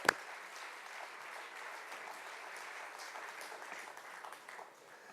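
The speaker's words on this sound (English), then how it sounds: "Big round of applause" Applause for the speaker's mother during an address, heard as a faint, distant wash of many clapping hands, steady throughout after a sharp tap at the start.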